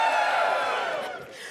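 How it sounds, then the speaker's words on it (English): Studio audience cheering and whooping, loud at first and gradually fading over a second and a half. "Give us a cheer if you would describe yourself as a nerd"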